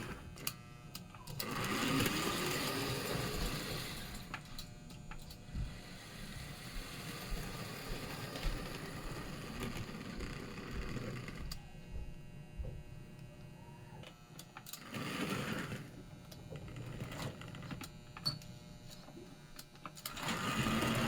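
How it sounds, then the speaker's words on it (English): A restored steam engine with eccentric valve gear runs steadily nearby, giving a continuous mechanical clatter with fine rhythmic ticking and knocking, swelling and easing in places, with no voices. "huge fan of eccentric valve gear on a steam engine"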